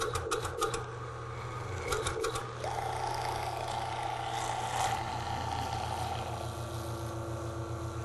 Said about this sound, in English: Now the bananas go through very quickly, and you can see it's beginning to look like banana ice cream now